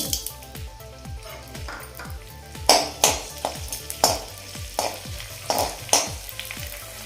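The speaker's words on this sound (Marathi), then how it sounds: "यामध्ये आपण डिंक तळून घेऊया थोडा थोडा" Edible gum (dink) frying in hot ghee in a pan for methi laddoos, a close, steady sizzle broken by a regular rhythm of spoon strokes stirring and scraping the pan.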